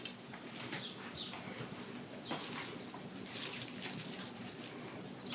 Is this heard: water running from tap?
yes